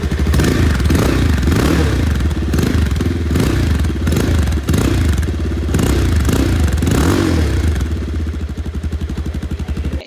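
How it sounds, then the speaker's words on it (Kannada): Bajaj Pulsar 220F motorcycle exhaust note, a loud, close, steady idle burble with rhythmic clattering pulses, easing slightly toward the end. "ಬೈಕ್ ನ ಎಕ್ಸಾಸ್ಟ್ ನೋಟ್ ನ ನೋಡ್ಕೊಂಡು ಬರೋಣ ಬನ್ನಿ"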